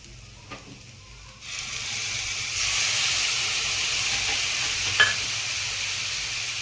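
Bottle gourd muthiya in a pan, a soft hiss swelling into a steady sizzle as the pieces are stirred, with a light utensil tap or two near the mic, no talking.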